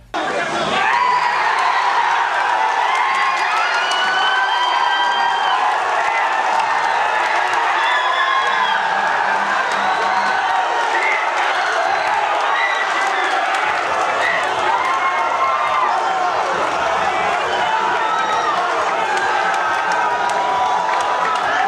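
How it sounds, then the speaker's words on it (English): A large crowd at Nintendo's E3 conference applauds and cheers loudly and continuously, with whoops and shouts rising above sustained clapping throughout. "as soon as I saw this level of applause for Banjo at the Nintendo"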